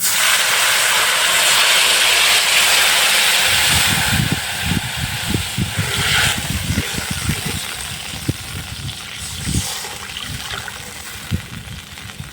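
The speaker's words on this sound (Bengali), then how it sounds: "এবার আমি একটু জল দিয়ে দেবো" Water hits a hot pan of fried katla fish and throws up a loud, broad steaming hiss that eases after a few seconds into a bubbling sizzle with soft irregular pops.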